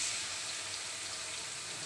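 Onions and garlic fry in a pan with a steady, even sizzling hiss that runs unbroken throughout and is heard alone.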